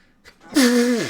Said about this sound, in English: Man, that was powerful sneezing.